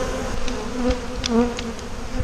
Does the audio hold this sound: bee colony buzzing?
yes